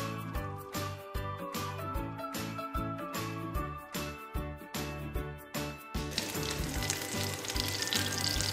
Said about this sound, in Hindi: आप इसे हल्की आंच पे पकाएंगे तो ये अंदर से भी अच्छी तरह पक जाएंगे